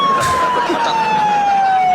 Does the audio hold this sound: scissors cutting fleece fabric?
no